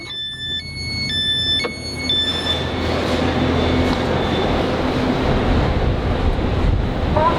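A three-coach train arriving at York rumbles steadily along rails with a broad, continuous roar, high tonal chimes sounding at the start before the noise settles into a loud, even drone.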